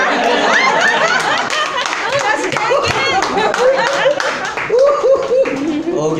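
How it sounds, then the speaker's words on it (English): Audience applause at a Toastmasters club meeting in Metro Manila, with scattered clapping, chatter and light laughter from a room of people and voices talking over it. "Let's give a big round of applause to Toastmaster Ivan"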